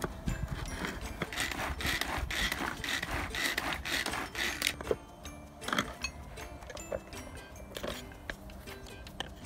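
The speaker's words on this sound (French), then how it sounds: "et là on va mixer encore le tout" An electric blender grinds a thick spread of fava beans and red beans, a steady coarse whirring and churning that roughens and then eases midway, with no talk over it.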